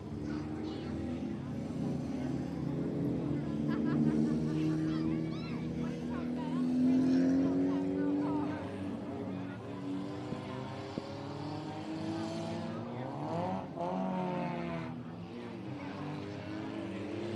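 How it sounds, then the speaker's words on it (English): Tuner race cars roaring down the chute at I-37 Speedway, a continuous layered engine drone rising and shifting in pitch as they pass, with a voice talking over them. "Tuner cars coming down the chute."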